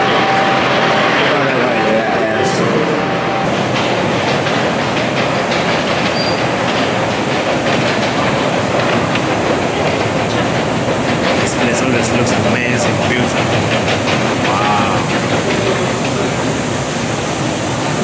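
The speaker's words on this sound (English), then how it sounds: "I'm gonna go to the metro." A Moscow metro train runs with a constant loud roar and clattering wheels, squeals and rumble filling the whole stretch.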